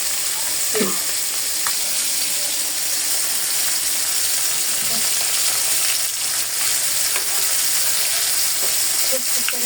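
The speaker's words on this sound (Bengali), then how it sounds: "মাছ ভাজা হোক" Local fish frying in a pan in a home kitchen, a steady loud sizzle that holds evenly for the whole stretch with a few faint clinks and no talk over it.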